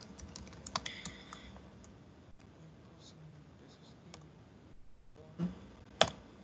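Quiet clicks of typing on a computer keyboard, scattered soft keystrokes followed by a sharper, louder tap as enter is pressed near the end.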